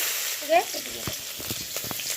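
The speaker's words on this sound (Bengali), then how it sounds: "জিরাটা চিরবিড়িয়ে ফুটে উঠলে একটা পেঁয়াজ কুচি দিচ্ছি" Chopped onion fries in oil with crackling whole white cumin seeds, a steady moderate sizzle with soft stirring clicks and a brief squeaky scrape early on.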